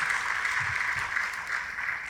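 A church congregation claps enthusiastically during a worship service, a dense, steady wash of applause that holds at even strength throughout.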